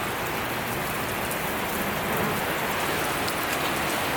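Steady rain pours down in a dense, hissing wash, with drops pattering on surfaces close by throughout.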